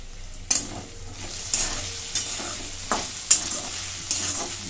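Red bean pods are stir-fried in a pan over low gas, with soft continuous sizzling broken by six or seven sharp scrapes of the spatula at a steady pace, close and alone.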